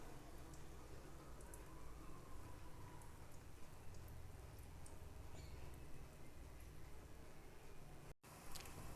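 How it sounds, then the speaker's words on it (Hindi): Chicken kachori frying in not-too-hot oil in a wok, giving a steady, dense sizzle and crackle that runs without pause, with small pops scattered on top and a brief dropout near the end. "अब एक कढ़ाई के अंदर मैंने ऑयल ले लिया है, बहुत ज़्यादा गर्म नहीं है। अब इसके अंदर हमने इस कचौरियों को डाल देना है।"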